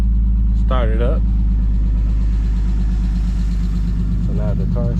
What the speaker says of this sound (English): So now the car started.